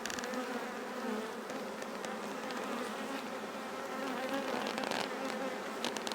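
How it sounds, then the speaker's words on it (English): Honey bees swarming around an open hive during an inspection, a dense continuous buzzing drone with individual bees whirring close by, steady and fairly quiet, with no talk. "it's easier sometimes to gently puff at the bees to get them to move off"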